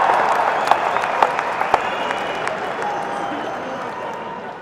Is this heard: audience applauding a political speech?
yes